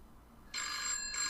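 A telephone rings in a studio setting, a bright electronic trill starting abruptly after a quiet moment and continuing steadily with a brief dip, loud and close with no talk over it.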